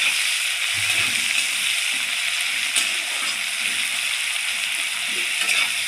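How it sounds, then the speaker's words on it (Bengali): Chopped onions with a little salt fry in a pan for masala baigan, giving a steady, even sizzle and hiss that carries on without a break. "পেঁয়াজ কটা একটু ভেজে নিই।"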